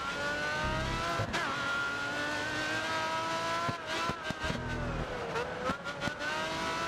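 Race car engines roar continuously in a racing video game, with a high whining tone that rises and drops through gear changes and corners, loud and steady, with brief thumps and clicks mixed in.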